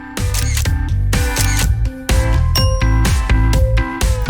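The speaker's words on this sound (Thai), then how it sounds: "เฮ้ยถ่ายรูปเหรอ ให้ฉันถ่ายด้วยสิ" A camera snapping a photo amid a loud, bright musical sting of chiming, bell-like tones in quick rhythmic bursts, close and prominent, with no talk.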